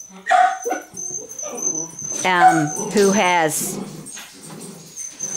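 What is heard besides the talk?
dogs barking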